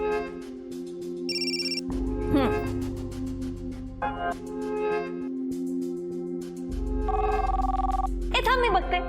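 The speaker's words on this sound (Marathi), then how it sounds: "हे उदय, फोन का कट केला?" A telephone rings in a tense domestic scene, its tone sounding in short bursts over a steady musical background while people talk nearby.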